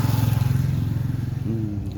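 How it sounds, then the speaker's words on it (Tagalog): A motorcycle passes close by with a loud, throbbing engine pulse that holds steady and then shifts slightly in pitch toward the end, with no talk over it. "Ayun, may sasakyan, may motor."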